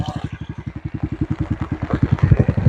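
A motorcycle engine thrums close by with a rapid, even pulsing beat that swells slightly louder toward the end, with no voices.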